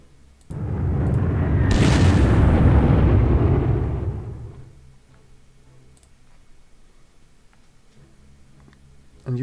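Bombing run by recon bombers on enemy units in the World War II strategy game Panzer Corps Gold: a loud, rumbling blast swells for about four seconds, then fades into quiet game ambience.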